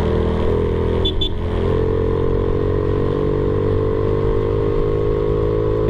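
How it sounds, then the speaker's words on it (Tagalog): Loud, sustained intake roar from the air filter of a Yamaha Mio i 125 scooter held at high RPM, a steady droning engine note with a brief clattery blip early on, no talk over it. "Masarap pakinggan nung air filter ko, no? Sa pag high RPM."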